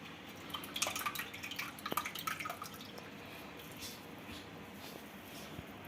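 Soaked soybeans for idli are squeezed by hand in a kitchen, water running and dripping off in soft, quiet spatters concentrated in the first two seconds, then fading to near silence.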